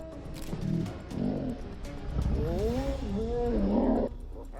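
Male lion roaring and snarling during an attack in the wild, a continuous deep, rough growl that rises and falls for several seconds, close and loud, with a few faint bird calls behind.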